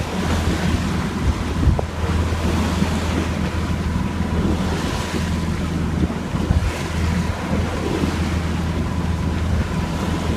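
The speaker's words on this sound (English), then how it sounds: "The wind has died down to about 6 knots, but seas are still lumpy just from the storm" Lumpy seas after a storm wash steadily around a sailboat on open water, with continuous surf and a buffeting wind rumbling across the microphone.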